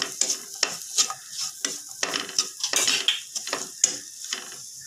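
Chopped carrot and vegetables stirred in a frying pan: repeated scraping and clinking strokes of a spoon against the pan over a soft sizzle, in an uneven rhythm, close and fairly loud.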